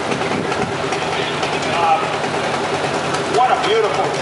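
A restored 1953 Ford Golden Jubilee tractor runs at a parade, its engine a steady rumble beneath crowd noise and talk, with faint whistling tones drifting in.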